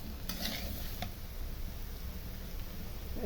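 Bottle gourd stirred with spices in a pan, a soft steady sizzle running throughout with a few faint scraping strokes near the start, no voices.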